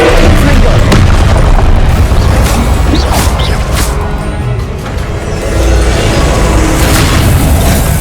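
Confringo spell blasts in the video game Hogwarts Legacy, loud booming explosive bursts layered in dense, continuous combat noise, dipping briefly before swelling again.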